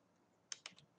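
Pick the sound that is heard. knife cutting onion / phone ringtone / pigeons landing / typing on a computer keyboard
typing on a computer keyboard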